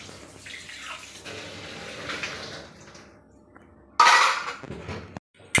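Tap water runs while dishes are washed by hand in a home kitchen, a soft continuous splash that surges louder and brighter near the end, with a clink of utensils.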